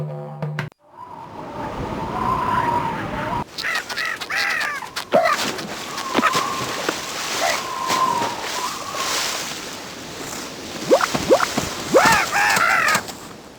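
King penguin calls from a children's world-explorer video game ring out in bursts of harsh, trumpeting cries over sloshing water and background game sounds, several calls overlapping across the scene.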